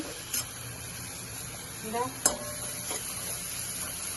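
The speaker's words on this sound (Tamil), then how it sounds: "தக்காளி வெங்காயம் நல்லா வதக்கியாச்சு" Tomato and onion sauté in a pan for a traditional brinjal gojju, giving a faint steady sizzle with a few light scraping stirs and one sharp utensil tap near the middle.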